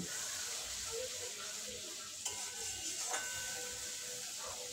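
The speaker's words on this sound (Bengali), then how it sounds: "মশলাটা বেশ ভালোভাবে কষে নেব যতক্ষণ না মশলা থেকে তেল ছেড়ে দিচ্ছে" Spice paste of cumin, coriander and dried chilli powder frying in oil for a vegetarian soybean curry, a steady dense sizzle throughout with a couple of faint stirring clinks.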